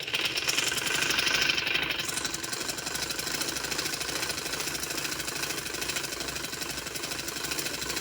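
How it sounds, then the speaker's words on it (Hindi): A domestic sewing machine runs steadily through a trouser hem, giving a continuous rapid mechanical chatter that stays loud and even across the whole stretch, with no voices over it. "अब मैं इसको नीचे से सिलाई लगाती हूँ।"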